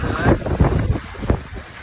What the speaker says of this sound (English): The wind's gusting 21 knots really